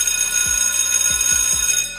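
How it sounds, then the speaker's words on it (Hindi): A bright electric school bell rings continuously at a loud, steady level, its shrill tone holding throughout with a few low thumps underneath. "और अब बजती है कंटिन्यूस घंटी,"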